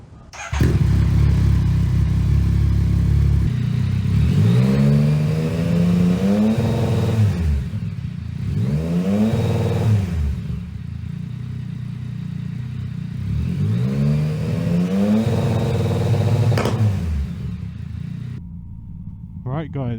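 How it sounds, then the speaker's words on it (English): A Yamaha MT-09 motorcycle engine runs after a rebuild: a loud, close idle rumble punctuated by three rising-and-falling throttle revs, with a voice speaking briefly near the end. "The bike's running pretty damn smooth."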